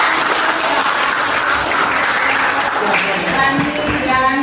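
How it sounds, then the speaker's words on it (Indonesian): Classroom audience in an office management class applauds a student group after their presentation: dense, steady clapping throughout, close and loud, with some voices mixed in near the end. "kita berikan tepuk"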